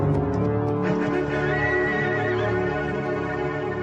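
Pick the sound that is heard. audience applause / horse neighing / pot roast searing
horse neighing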